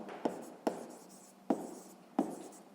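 Pen writing a solution on paper during a sixth-grade math lesson on cube edges, four short distinct strokes with light scratching between them, close and quiet, no talk.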